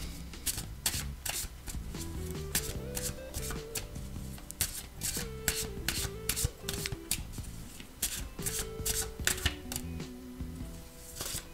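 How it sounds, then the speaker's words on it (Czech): A deck of small cards is shuffled by hand in quick, repeated crisp riffles and rubs at close range, with soft music playing underneath. "Tak já si už ty kartičky tady zamíchám a podíváme se na to."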